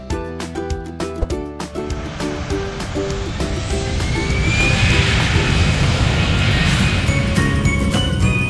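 A loud, steady airplane engine roar swells and holds as a sound effect for a virtual airline flight, following a few clanking, chime-like tones at the start.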